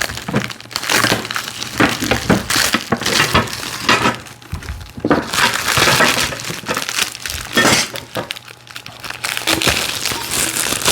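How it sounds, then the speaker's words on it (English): Plastic packaging on a VEVOR mobile TV stand for a 50-inch TV being cut and torn with a knife, giving repeated crinkling, crackling bursts at close range with short pauses between them and no talk. "Cut some of this plastic off here."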